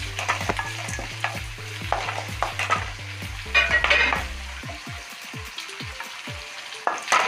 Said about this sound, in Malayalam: ഒരു സ്പൂൺ പെരിഞ്ജീരകം ഇടാം. ഇത് നന്നായിട്ട് ഫ്രൈ ആവട്ടെ.